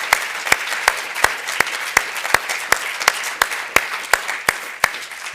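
Rhythmic, evenly spaced clapping from an audience at a business meeting honoring event staff, with sharp regular beats over a softer bed of scattered applause throughout.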